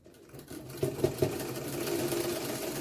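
Sewing machine stitching a pant in a tailoring setup, a steady close mechanical whir with a few sharper thumps near the start, running alone without talk.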